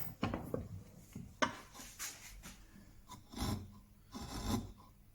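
A very sharp chisel cuts a chamfer along the edge of a wooden three-legged stool, giving quiet close rasping scrapes in short irregular strokes separated by brief pauses.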